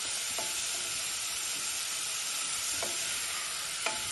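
Onions and peppers fry in a pan with a steady, close sizzle and an occasional soft stirring scrape.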